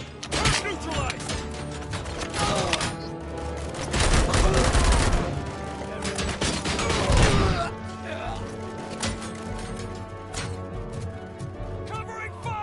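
Covering gunfire in Robocop Rogue City, bursts of rapid automatic shots swelling and easing over several seconds with mechanical clatter, while voices shout over the shooting.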